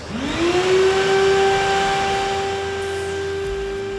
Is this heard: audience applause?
no